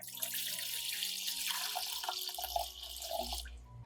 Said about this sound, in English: pour water into a pot